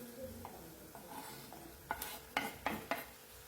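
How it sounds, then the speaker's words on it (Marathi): Chopped tomato and onion sautéing in oil while being stirred with a spoon, a quiet sizzle under a few soft scrapes, then several sharper, louder strokes against the pan toward the end, no voices. "आणि टमाटा पण छान तेलावर परतून घ्यायचा आहे."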